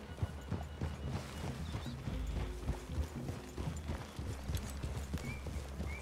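Horse hooves clip-clop in a western-set Red Dead Redemption game scene, a steady run of soft thuds close by with a brief whinny-like tone, no talk.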